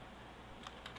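Typing on a computer keyboard during a Linux command-line lesson, a faint, fairly steady run of small key clicks with a few louder taps near the end, heard alone with no talking.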